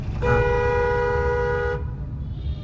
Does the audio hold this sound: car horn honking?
yes